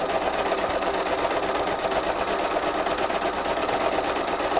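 A sewing machine stitches a loose-leaf notebook in one continuous run, its fast steady whirring and needle chatter close and loud, with no voices.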